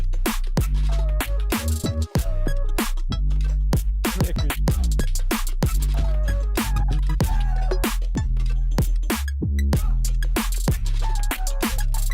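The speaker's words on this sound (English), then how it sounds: "3 snare layers, okay" A busy electronic music track pounds along with sharp, layered snare hits cracking over heavy bass and melodic synth lines.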